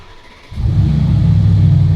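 A Mercedes G-Wagon engine, freshly rebuilt after a wreck, catches halfway through and settles into a loud, steady low rumble at close range, with no voices.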